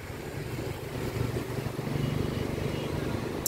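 A long-tail boat engine drones at a distance off Ao Nang Beach, Krabi, Thailand, a low rumbling motor rising slightly in loudness, with wind and outdoor ambience around it.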